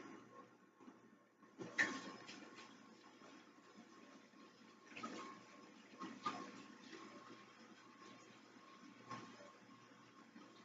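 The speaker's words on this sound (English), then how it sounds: "I'm going to wash my hands real quick" Tap water runs steadily while someone washes their hands, a soft, continuous hiss with a few brief louder splashes or knocks scattered through it and no talking.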